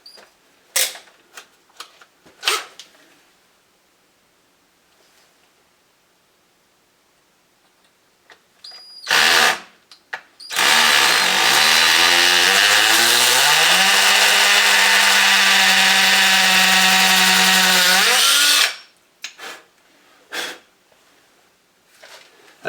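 Power drill boring through a car floor pan with a shortened masonry bit, a loud sustained whirring burst of about eight seconds with pitch shifting as it bites, preceded and followed by scattered clicks and handling knocks.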